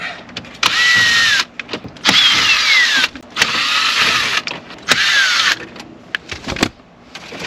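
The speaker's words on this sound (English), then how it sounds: "let's go ahead and start removing these screws" A power drill backs screws out of the interior trim of a Jeep XJ. It gives about four close, loud bursts of whirring with a whine that swoops up and down, separated by short pauses and small handling clicks, with no talking.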